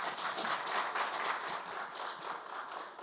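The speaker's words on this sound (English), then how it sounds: "A hand of applause and a round of applause for all three speakers" A conference audience applauds three speakers with continuous, fairly quiet clapping from many hands that stays even and somewhat distant across the whole stretch.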